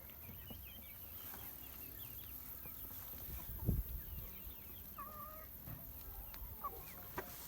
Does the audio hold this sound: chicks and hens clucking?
yes